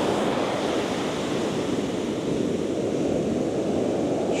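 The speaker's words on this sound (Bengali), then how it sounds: "সত্যি সমুদ্রটা এখানে দারুণ।" Sea surf roars steadily along a beach at Dublar Char, a broad, continuous wash of breaking waves with some wind, loud and close, with no one speaking.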